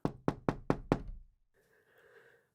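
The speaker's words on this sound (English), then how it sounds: "remember that they knocked and that you love knocking" Five sharp, evenly spaced knocks on a door in quick succession, loud and close, followed by a faint muffled tonal sound after the knocking stops.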